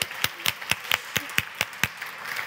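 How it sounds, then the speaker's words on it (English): Audience applause at a media convention talk, a short burst of sparse, crisp individual claps from a modest crowd in a hall. "Yes, please, applause."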